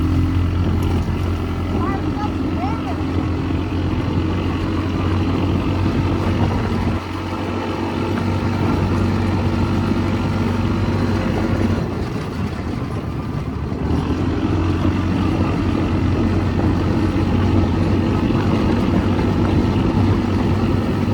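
Polaris RZR side-by-side with a DynoJet Power Vision 4 tune runs at a steady, droning engine roar for the whole stretch, loud and close, with a brief dip and a rougher surge partway through.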